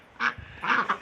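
Turkeys give a few short, nasal, quacking calls close by, three quick bursts within a second, with no talk.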